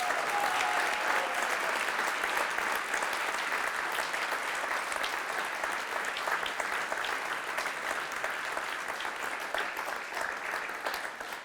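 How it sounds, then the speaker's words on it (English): A large audience at a gathering keeps up loud, dense applause for about ten seconds, the clapping broad and continuous before it starts to thin out at the end. "we'll give a huge round of applause to those who've been part of this for 8 years or"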